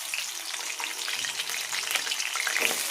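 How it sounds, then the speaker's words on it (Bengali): A few white cumin seeds spit and sizzle in hot oil in a wok, a steady close crackle with bright pops throughout. "তেল দিয়ে তার মধ্যে কয়েকটা সাদা জিরে দিয়ে দেবেন।"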